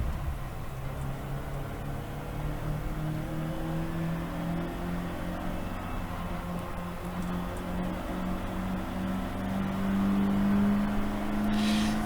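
Race car engine droning steadily on track at Croft during a GAZ Shocks 116 Trophy race, onboard with a continuous loud tone that rises slightly in pitch toward the end as the car accelerates.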